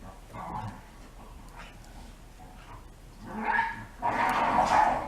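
Dogs at play bark, yip and growl in rough bursts, growing louder and more frantic toward the end, with scuffling noise between the outbursts.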